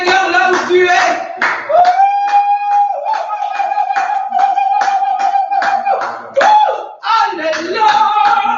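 A church congregation claps rhythmically, sharp repeated claps under sustained sung and shouted voices praising the Lord, loud and close throughout.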